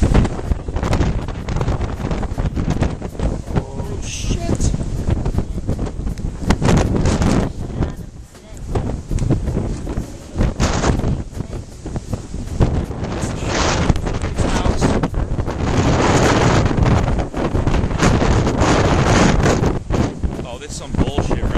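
Roaring Hurricane Sandy gusts batter the microphone in loud, continuous buffeting waves that surge and ease over more than twenty seconds, with no clear voices.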